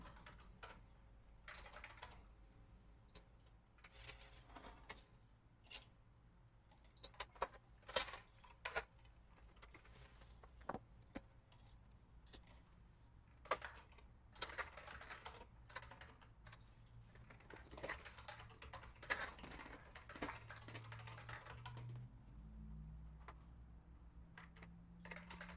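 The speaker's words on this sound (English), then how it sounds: "now Tuco's standing on the keyboard" A cat named Tuco stands on a computer keyboard of a malfunctioning machine, pressing keys in an irregular patter of clicks and taps spread across the clip over a low steady hum.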